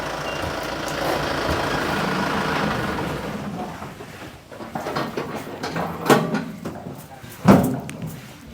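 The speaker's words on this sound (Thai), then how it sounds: "รถเข้ามาพี่น้องเอ้ยทั้งรถส่งปูนทั้งรถส่งกะโลเนาะเปียกหมดเลย" A cement delivery truck pulls in with a steady engine rumble that fades as it slows, followed by a few louder clunks and knocks near the end.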